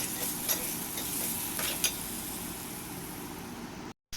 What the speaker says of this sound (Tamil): இப்போ வெங்காயமும் தக்காளியும் நல்லா பேஸ்ட் மாதிரி நல்லா வதங்கணும்.